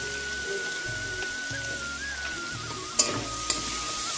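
Steady close sizzling of fried rice ingredients and raisins frying in hot oil, with a couple of sharp clinks of a utensil partway through.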